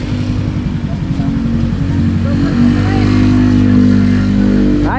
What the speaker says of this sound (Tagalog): Ayusin ko lang ang aking tricycle.